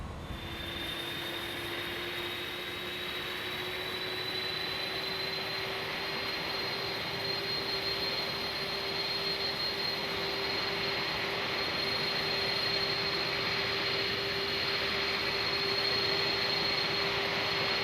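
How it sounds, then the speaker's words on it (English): A steady jet airliner engine start in a flight simulator, a whine with a rising high tone over a broad rumble, continuous and unbroken throughout. "cut to an engine start"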